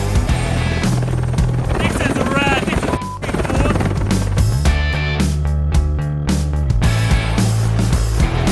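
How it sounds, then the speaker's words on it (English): A helicopter flies loud and close with a heavy, continuous rotor thrum during a behind-the-scenes shoot in New Zealand, while people talk over it. "The helicopter's just going to be landing with only one fin."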